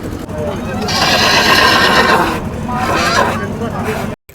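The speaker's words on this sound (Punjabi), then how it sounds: "ਦੇਖੋ ਕਿੱਡਾ ਤਾਗੜਾ ਘੋੜਾ" A horse at a Punjab horse fair in Jagraon gives a loud, close neigh, then a second shorter whinny, over a busy crowd murmur and people talking.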